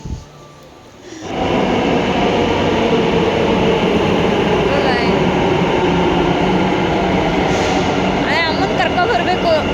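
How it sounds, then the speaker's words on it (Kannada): After a quiet second, a loud steady rumble and rush of a metro train in motion fills the space, with faint squeals and clicks over the din. "ನಾವು ಮೆಟ್ರೋದಲ್ಲಿ ಬಂದ್ವಿ"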